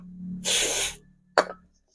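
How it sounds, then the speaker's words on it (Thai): Aerosol cleaning spray blasts onto a Glock pistol part, a loud foaming hiss lasting about half a second, followed by a shorter sharp second burst, with no talking. "สเปรย์มันแรงครับ เป็นฟองออกมาเลยฮะ"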